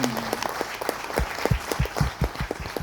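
Audience applause at a ghazal concert, a dense wash of clapping from many hands that builds steadily, with a brief sung or spoken tone at the start.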